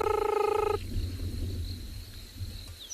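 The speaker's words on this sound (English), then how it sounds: "from a very pretty frog called a banded rubber frog" A banded rubber frog gives a short rapid trill at night in the African bush, a loud pulsing burst that stops abruptly, followed by quiet background insects and a low rumbling hum.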